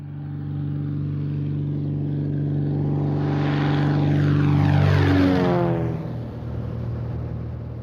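Sheriff's propeller airplane flying during an aerial search, a steady engine drone that swells louder and shifts pitch as it passes overhead, then fades slightly.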